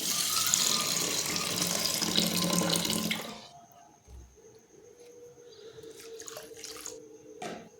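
Rice is washed under a running kitchen tap, with water gushing loudly into the sink for about three seconds before cutting off to quieter splashes and drips.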